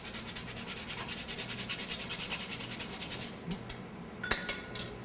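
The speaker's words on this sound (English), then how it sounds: "Fresh nutmeg." Fresh nutmeg rubbed against a grater in a kitchen while strawberries and cornstarch are being mixed, giving a rapid run of close rasping strokes for about three seconds, then a few scattered scrapes and a sharp clink.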